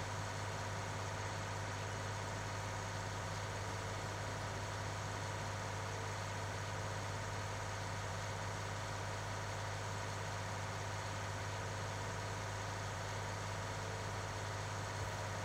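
A tractor engine idles in a farming video game, a steady low rumble with a constant hum that holds evenly throughout with no talk over it.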